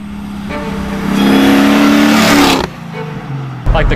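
A 1968 Camaro on a Roadster Shop FastTrack chassis with independent rear suspension revs loud and close. The engine swells into a sustained high-rpm roar, drops back to a rumbling idle and then gives a short blip at the end.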